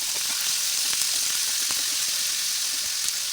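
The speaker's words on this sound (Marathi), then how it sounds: "आता आपण भाजीला फोडणी देऊया." Vegetables tempered in hot oil with garlic and chillies give a steady, even sizzle, crackling close by without pause and with no voices.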